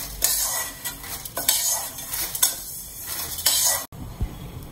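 Chana dal frying in oil in a pan for spiced mint chilli powder, with repeated scraping stirs of a metal spoon and a light sizzle, several distinct strokes close up, then a brief pause.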